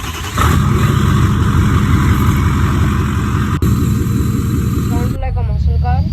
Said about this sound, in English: The startup, it sounded like a muscle car